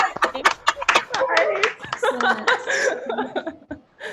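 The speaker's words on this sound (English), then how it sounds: "let's give Ashley a round of applause" Participants in an online meeting clap unevenly over open microphones, with scattered sharp hand claps mixed with chuckles, laughter and overlapping voices.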